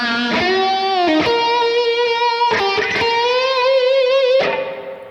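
Electric guitar plays a solo with sustained singing lead notes, slow, wide vibrato and picked note changes, close and clear with no talking.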